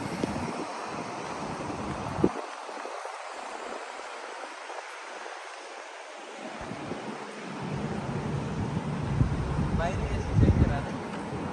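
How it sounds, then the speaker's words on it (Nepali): Wind gusts buffet the microphone with low rumbling bursts, rising and falling, while a person talks over it outdoors at night during Diwali. "खोइ हावा चलेछ फरर यति बाहिर पनि"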